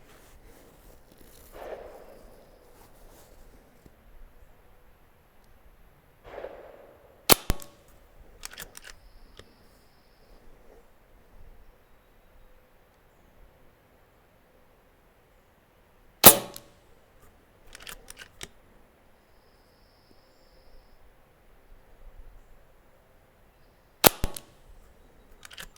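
An FX Panthera airgun firing 42.8-grain slugs outdoors in high wind, three sharp, separate cracks spaced several seconds apart, each with a quick rattling tail, between quiet stretches of faint wind and handling noise.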